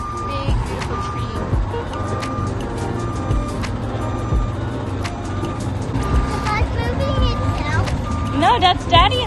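Converted school bus moving with a regular, evenly spaced reversing beep repeating over a low engine rumble, with people talking nearby throughout.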